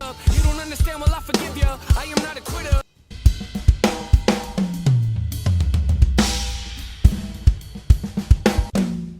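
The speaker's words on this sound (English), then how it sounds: "Does your drum mix sound like this?" A full drum kit plays a punchy groove, with kick, snare and cymbals hitting in a steady rhythm and a short break near the start.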